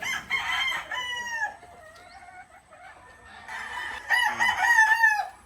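A six-month-old Boston Roundhead cross Machine Kelso gamefowl rooster at a game farm crows loudly and close, with clucking between two drawn-out crowing bursts.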